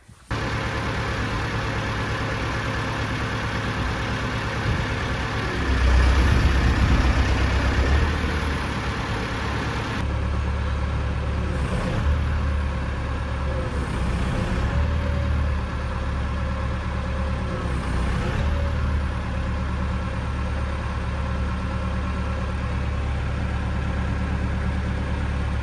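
A forklift engine runs steadily at idle for the whole stretch, a loud low rumble that swells briefly as it revs before settling back, with no voices.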